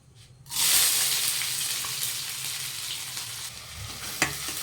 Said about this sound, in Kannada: ಎಣ್ಣೆ ಕಾಯಿತು ನಾನು ಈರುಳ್ಳಿನ ಹಾಕೋತೀನಿ ನೋಡಿರಿ ಇದಕ್ಕೆ